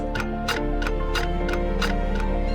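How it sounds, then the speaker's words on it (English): A clock ticks steadily at close range, about six even ticks over a couple of seconds over a low, constant hum, with no talking. "behind the incessant ticking of our clocks and gadgets"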